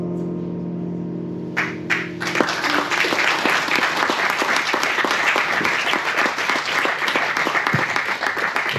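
A crowd at a live show applauds a singer, loud sustained clapping that bursts in after a held musical note fades and continues densely to the end.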